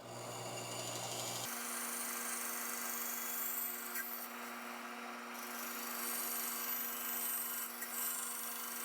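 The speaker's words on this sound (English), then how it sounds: "all of this, will be cut out with the bandsaw" Bandsaw cutting scrap wood into salad tong blanks, a steady motor hum with a continuous rasping cut that starts after a second and runs evenly throughout, fairly quiet and close.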